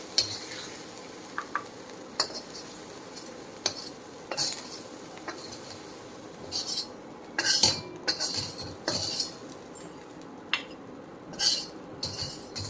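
A metal utensil scrapes and clinks inside a clay pot while stuffed brinjal masala is scooped out, giving scattered sharp clatters and scrapes over a soft sizzle, close and fairly quiet.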